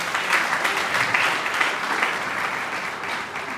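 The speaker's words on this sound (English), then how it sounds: "Can I have a round of applause for her?" An audience at a nursing event at UCH gives a keynote speaker a round of applause, steady crowd clapping from a moderately distant room, even and continuous throughout.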